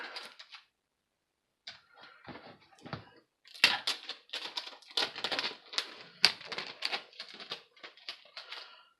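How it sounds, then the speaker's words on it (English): Clear packing tape pulled and pressed over a comic book shipping package, a run of crackling, ripping bursts with short pauses between them, close and fairly faint. "And I commence to put the tape over."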